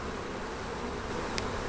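Honeybees hum around a Maisemore commercial poly hive, a soft continuous buzz close by, with one brief sharper flyby near the end.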